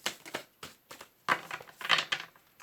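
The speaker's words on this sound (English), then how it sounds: "I'm going to do one more shuffle. Let's see, last shuffle." A stack of tarot cards being shuffled in quick bursts, a series of close, crisp riffling and slapping sounds with short pauses between.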